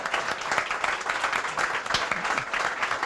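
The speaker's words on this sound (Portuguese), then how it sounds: "o professor César Arais, ele merece um parabéns, um aplauso duplo" A lecture audience applauds a professor at a talk on sex, behavior and evolution, steady dense clapping throughout the short stretch, moderately loud with no talk on top.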